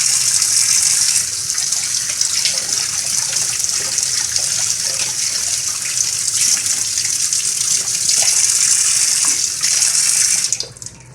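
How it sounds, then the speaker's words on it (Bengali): Tap water gushes steadily into a sink while a carrot is rinsed under it, a close continuous splashing hiss that stops abruptly near the end. "তো গাজরটাকে ভালো করে ধুয়ে নিচ্ছি।"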